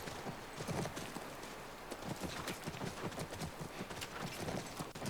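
A horse's hooves clip-clop steadily in the video game The Last of Us Part 1, a close, even walking rhythm of hoof strikes carrying on throughout.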